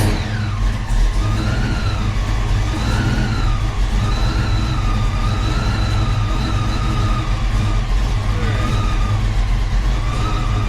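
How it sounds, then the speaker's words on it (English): Engine and fuel pump of a Foxbody car running on a lift in neutral, a steady loud drone with a continuous whining tone riding over it, no talking. "Fuel pump."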